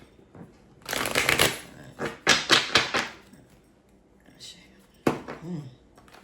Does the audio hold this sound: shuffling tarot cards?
yes